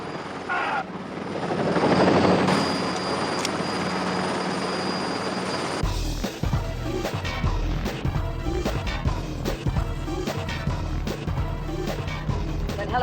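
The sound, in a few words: helicopter flying overhead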